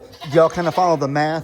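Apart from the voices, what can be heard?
goats bleating angrily in a stall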